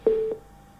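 A single short telephone busy-signal beep sounds, loud and clean, as a call into a live television news debate fails to connect.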